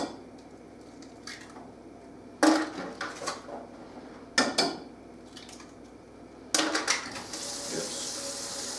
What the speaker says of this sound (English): Wash off the hands.